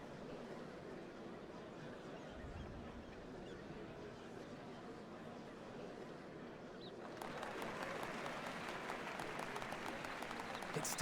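Crowd applause in Final Fantasy XIV at a ceremony for the changing of Dawn Servants, a steady soft wash of clapping that grows louder and denser partway through, with no talk.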